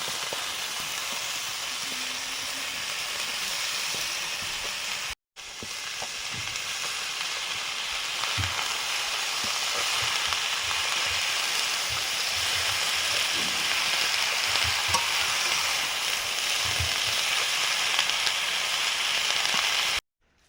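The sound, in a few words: Malabar spinach seeds added to a sizzling frying pan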